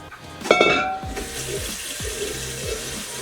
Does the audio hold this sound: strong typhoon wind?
no